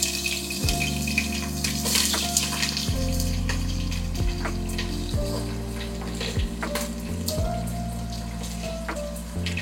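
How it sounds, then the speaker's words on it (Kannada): Sliced onions frying in hot oil with whole spices for Ambur chicken biryani give a steady, even sizzle lasting nearly ten seconds, with steady tonal background sound layered over it. "ಇವಾಗ ಈರುಳ್ಳಿ ಚೆನ್ನಾಗಿ ಬ್ರೌನ್ ಕಲರ್ ಬರಂಗೆ ಫ್ರೈ ಮಾಡ್ಕೊಳ್ಳೋಣ"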